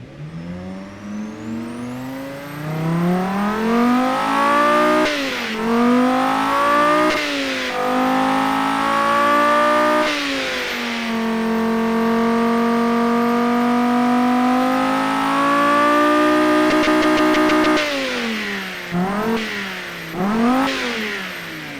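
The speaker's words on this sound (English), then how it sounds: "That is a very nice sounding engine. Wow, a V10 is always a good thing to hear, really." A turbocharged V10 race car engine in a video game revs repeatedly, climbing and dropping in pitch, then holds a long high-rpm note before more quick blips, loud and alone.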